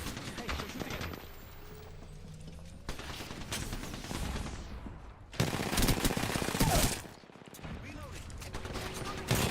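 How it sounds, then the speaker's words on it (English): Rapid bursts of automatic gunfire crackle in a squad shooter game, loud, close volleys broken by brief pauses, with spoken voices mixed in. "Hey, we're shooting at you."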